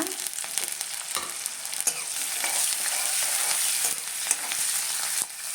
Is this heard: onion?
yes